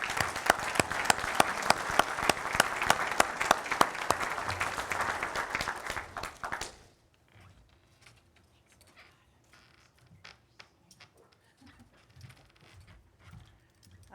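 Audience applause at the NASA Exploration Science Forum awards ceremony honoring an award winner, dense clapping for about seven seconds that cuts off abruptly into near silence with faint rustling.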